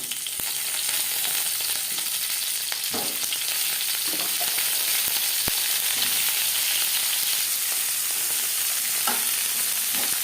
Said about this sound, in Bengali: সবার প্রথমে আমি সবজি ভেজে নেব। দিয়ে দিয়েছি সরষের তেল।